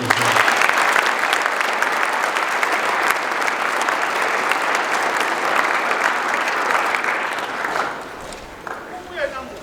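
A school speech-day audience gives the hockey team a round of applause, dense sustained clapping filling the hall for several seconds before tapering off at the end.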